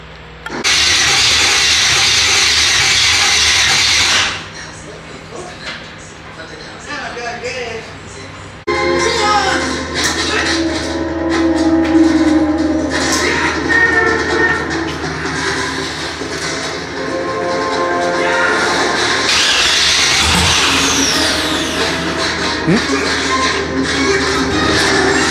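An LS 408 stroker engine cranks on its first startup: a loud starter whir cuts off, then the engine catches and settles into a rough, loud, hissing idle that swells again near the end.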